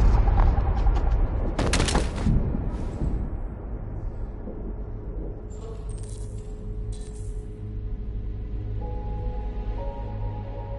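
Gunfire in Detroit: Become Human, a loud burst of rapid shots at the start fading into quieter scattered bangs and a low ambient hum, with no talk.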